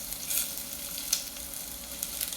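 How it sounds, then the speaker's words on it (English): Vegetables fry in oil over medium heat in a pan, a soft steady sizzle with a few brief crackles, faint and close, with no talking. "get some oil going, and remember to leave your bay leaf out, and to kind of stay in medium heat. And we're gonna cook our vegetables"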